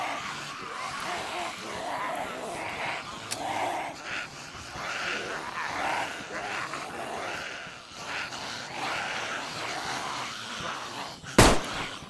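Rapid bursts of gunfire aimed at zombies in a video game, a dense crackling barrage running throughout at steady loudness, ending in one sharp louder report near the close.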